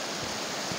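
A dense, steady roar of falling water, broadband and unbroken, like standing near a waterfall, heard on a descent in the mountains of Karachay-Cherkessia.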